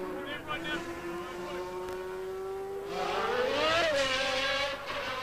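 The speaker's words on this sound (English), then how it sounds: "there we see and hear a new sound in the back of the Camel Lotus, the sound of the Lamborghini V12 engine" Lamborghini V12 engine in the Camel Lotus Formula 1 car during qualifying for the 1990 United States Grand Prix, a sustained high-pitched whine rising sharply late on, heard through race commentary.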